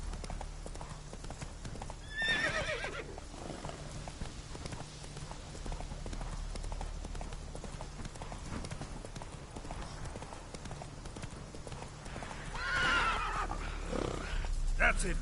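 Roach, the horse in The Witcher 3 game, gallops with steady hoof clip-clop throughout, neighing loudly near the start and again near the end over a constant game background.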